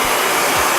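A hair dryer on its highest heat setting, used to soften glue on a skate shoe, blows with a loud, continuous airy whoosh for under a second.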